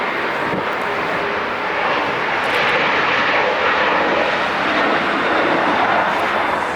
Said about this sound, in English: plane that landed on the south side of Layton